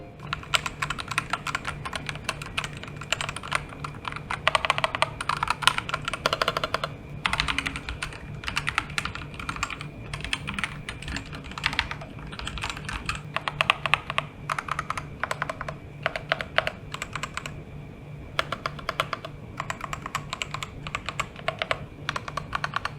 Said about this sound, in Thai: เดี๋ยวเรามาฟังเสียงคีย์บอร์ดเลสวิตตัวนี้กันเนาะ